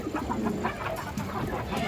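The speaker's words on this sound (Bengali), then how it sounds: "মাদি কৌতর" A large female pigeon held for sale gives a quick run of low, repeated calls, close and moderately loud, with no talk.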